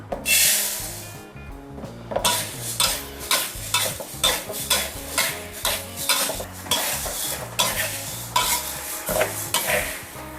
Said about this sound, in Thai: เรามาคั่วถั่วเขียวล้อเปลือกกันต่อเลยค่ะ